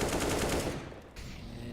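Rapid gunfire in Counter-Strike: Global Offensive, a wallbang shot through a wall on the B side of the map, bursts loud for under a second and then cuts off, with faint game ambience afterward.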